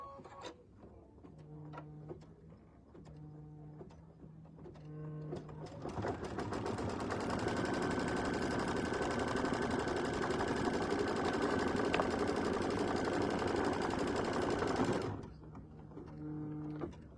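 A sewing machine stitches a tack-down on fabric for a mug rug, starting with a few short bursts, then running as one long steady whir that cuts off before more brief bursts.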